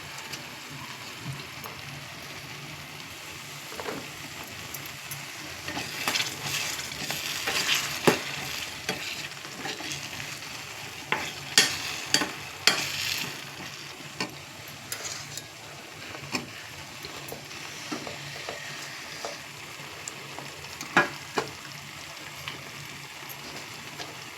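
Eggplant chutney fries in oil in a pan, giving a steady, soft crackling sizzle throughout, with intermittent scraping and tapping from a spoon stirring it, close and without any voices.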